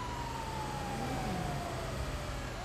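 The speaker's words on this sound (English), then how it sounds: "Oh, this ambulance doesn't like the hills." An ambulance siren in a GTA V roleplay game sweeps steadily downward as the vehicle strains up a hill, heard over a constant engine drone with no talking.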